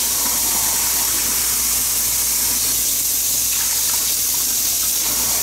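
Water pours steadily into a cooking pot on a stove while rigatoni with Italian sausage and ground beef is being made, a loud continuous gushing hiss lasting several seconds without talk.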